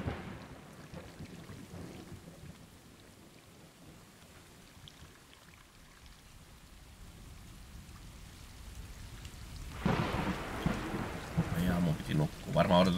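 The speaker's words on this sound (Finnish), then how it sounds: "Varmaan odotetaan, että sade loppuu." Steady rain patters in the video game Stray, a soft continuous hiss that swells louder toward the end, with a voice talking over part of it.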